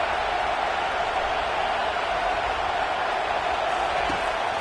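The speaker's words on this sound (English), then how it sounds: "this crowd is tearing the lid off this place." Stadium crowd roaring during a college football video game, a dense, steady wash of cheering noise holding loud and unbroken throughout, with no break or swell.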